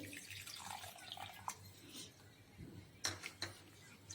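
Quiet trickling and splashing as half a cup of lukewarm water is poured into a container of ghee and powdered sugar, with a few soft drips toward the end.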